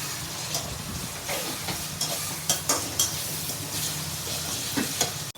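Curry of chikudukai (broad beans) with salt, turmeric and chili spices stirred in a pan on the stove: steady frying sizzle with repeated scraping spoon strokes, close and moderately loud, no voices.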